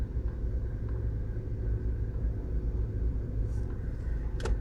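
Heavy road traffic in downtown Kingston, Jamaica, a steady low rumble of car engines idling and creeping nearby, with a couple of faint higher tones near the end.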